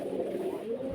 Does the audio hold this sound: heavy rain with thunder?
no